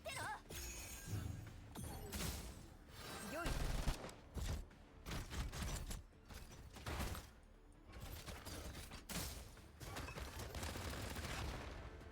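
Enemy attacks in the video game Girls Frontline 2: Exilium, with bursts of rapid gunfire, impacts and shattering hits coming in uneven volleys, under a voice talking.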